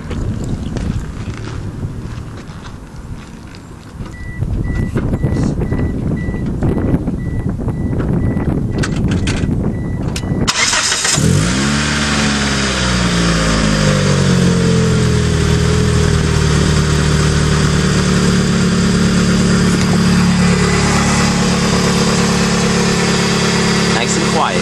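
A 1996 Mitsubishi Eclipse engine cranks and catches at about ten seconds, then settles into a steady, quiet idle up close, with wind noise and handling sounds before the start.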